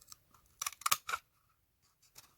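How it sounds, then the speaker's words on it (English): Scissors snip through a paper towel roll in a few quick, close cuts, several crisp blade strokes bunched together and then a faint final snip against near silence. "All you need is a pair of scissors and the roll."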